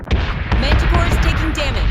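Torpedoes launching in a space combat game: a loud, continuous barrage of heavy booms and thuds with crackling bursts, played up close with a voice talking underneath.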